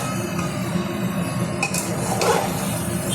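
Mutton pieces going into a pot of cooking spices for Bengali-style mutton kosha and being stirred, soft scraping and occasional metallic clinks of a spoon against the pot over a low steady sizzle, with no talking.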